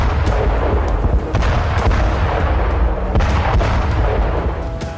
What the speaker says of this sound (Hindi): समंदर की लहरों के बीच अचानक हुआ जोरदार धमाका